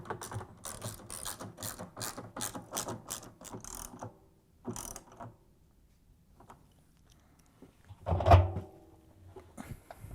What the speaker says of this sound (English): use the 10 mm socket wrench to tighten them all up